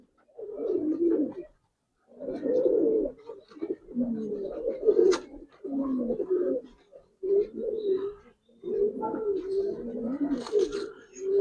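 Giribaz and colored pigeons coo in repeated low, throaty bursts separated by short pauses, fairly close and steady across the whole stretch, with no talking.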